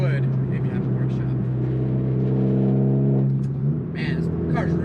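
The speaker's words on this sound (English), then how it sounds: "Man, this car's really loud." Honda Civic Type R FK8 engine droning loud from inside the cabin, a steady low tonal hum that holds then eases off, with someone talking over it.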